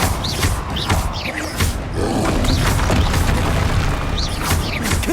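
The Confringo explosive spell cast in Hogwarts Legacy, with repeated fiery blasts and booms over constant combat rumble, loud and close, along with grunting creature noises.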